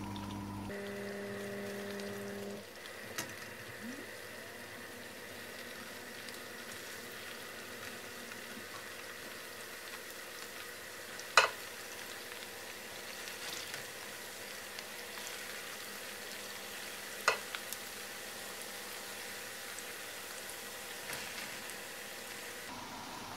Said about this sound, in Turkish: Şimdi köftelerimi yağa bırakıyorum.